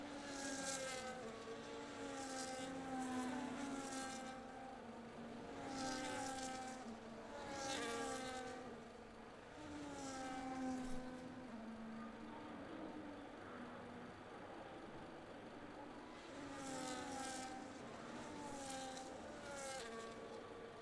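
Race cars in the F1 25 video game at COTA roll through a formation lap with burnouts, their high buzzing engines rising and falling in repeated passes at moderate distance.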